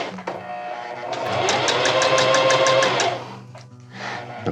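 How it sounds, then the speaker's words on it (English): A sewing machine runs in a quick burst of rapid, even stitching, whirring up and then slowing to a stop, close by and fairly loud. "New sewing machine, so."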